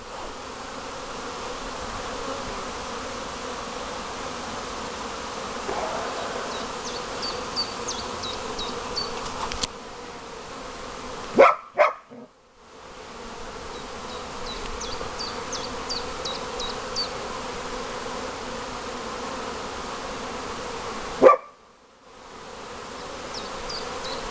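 Honeybees at four busy apiary hives on a cold spring day make a dense, steady droning hum that carries on throughout, broken by a couple of brief handling bumps and dropouts.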